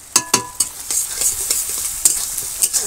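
Garlic paste stirred and fried with onions in a pan over a wood-fired village kitchen stove, with scraping spatula strokes and a steady close sizzle, no talking.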